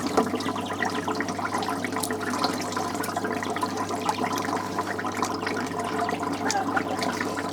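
Liquid poured through into an 80-litre tank, a steady broadband splashing rush that fills the whole stretch evenly, close and continuous.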